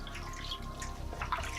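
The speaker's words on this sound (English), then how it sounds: "After washing, I rinse the entire foot." Water runs steadily over a foot being rinsed during foot care, a continuous close splashing trickle that holds constant throughout.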